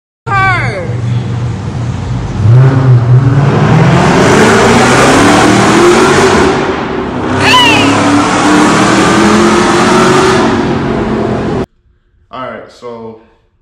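A car rolls slowly through a road tunnel, its engine hum and tire roar echoing steadily with a faint rise in pitch, while people talk loudly over it; the noise cuts off abruptly near the end, followed by brief speech.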